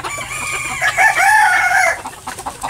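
A fighting rooster crows loudly and close by, one long drawn-out call lasting nearly two seconds, with faint clucking around it.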